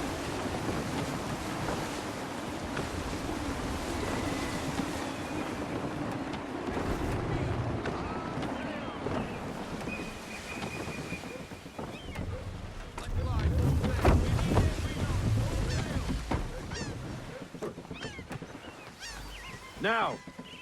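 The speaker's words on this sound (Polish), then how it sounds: "Wind looks to be shifting. Stay alert, Connor. Gusty winds can be difficult to manage" Wind and surf wash around a sailing ship in the Assassin's Creed III video game, a steady broad rush of waves and gusts with a voice speaking over parts of it and louder low swells near the end.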